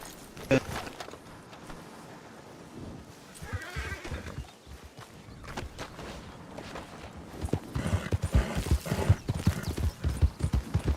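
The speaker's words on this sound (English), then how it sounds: "My horse is pretty fast" Hooves of a video game horse clip-clop rapidly in an uneven rhythm, with a horse whinny and people talking over the steady galloping.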